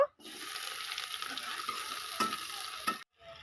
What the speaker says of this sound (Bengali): কাঁচা লঙ্কা পেঁয়াজ আমি একটু হালকা হালকা করে ভেজে নেব।